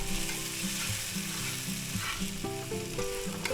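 Minced garlic sizzles and crackles steadily in a hot pan as it is stirred for a pork lo mein and vegetable stir fry, with soft music playing underneath.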